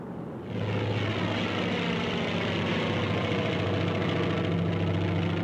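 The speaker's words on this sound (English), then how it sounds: "As one plane hits the deck, its landing gear gives way." A carrier-borne propeller aircraft landing on a flight deck during Philippine invasion preparations, its engine droning steadily and loudly after a sudden onset, with no voices.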